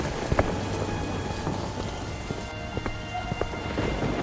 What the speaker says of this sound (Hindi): बारिश काफी तेज पड़ रही थी और आसमान में काले बादलों के साथ तेज तेज बिजली कड़क रही थी